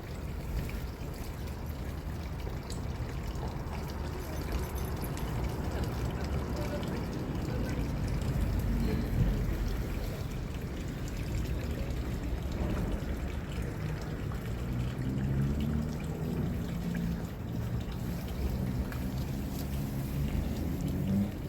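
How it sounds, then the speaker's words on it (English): Water flowing in a small outdoor pond, a steady broadband rushing wash that holds for the whole stretch, with a person talking over it now and then. "The sound of the water, just listen to that."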